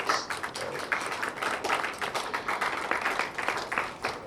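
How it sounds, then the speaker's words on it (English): Crowd applause, a dense patter of clapping hands that keeps going steadily throughout, with no talking. "I think we deserve a big round of applause."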